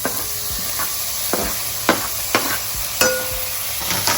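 Chopped tomato hits onions frying in oil, raising a steady close sizzle broken by several sharp knocks and scrapes of a spoon against the pan.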